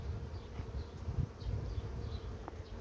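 Honeybees at a production hive in a stationary apiary hum in a steady, low, continuous drone, with a few individual bees buzzing closer now and then.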